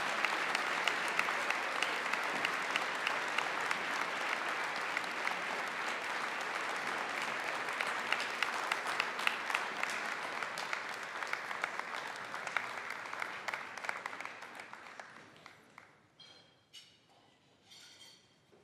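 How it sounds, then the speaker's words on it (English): Sustained applause from a large crowd at a single parent scholarship awards event honoring outstanding individuals, steady and full for about fifteen seconds before thinning out into a few scattered claps. "Please continue your applause for Susan and Gene Anderson."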